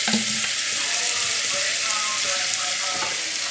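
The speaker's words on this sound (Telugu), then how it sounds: "కొంచెం ఆయిల్ వేసాను, సొరకాయ ముక్కలు వేసాను" Small pieces of bottle gourd fry in a little oil, giving a dense, continuous hiss and crackle, close and steady with no talking.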